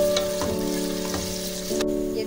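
Onions frying in a pan, sliced and cooked to half-done, give off a steady, fairly close sizzle with a few faint stirring clicks and a sustained tonal hum running underneath.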